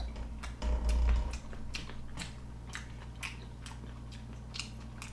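Close, quiet chewing of tako wasabi sushi, the raw octopus with wasabi giving soft, wet, squishy bites and faint crunchy pops that repeat through the clip with no talking.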